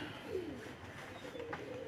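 Pigeons cooing softly, a couple of short throaty coos rising and falling over quiet ambient noise, moderately near.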